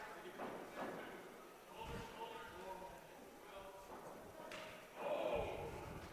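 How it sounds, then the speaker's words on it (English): A dull thud of a punch landing to the body during a boxing match, muffled and brief beneath steady arena commentary and crowd noise. "Good body shot there."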